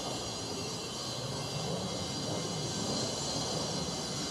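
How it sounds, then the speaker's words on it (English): An airplane passes overhead, a steady broad engine roar with low rumble holding at moderate level throughout, fairly distant and continuous with no talking. "is that a plane?"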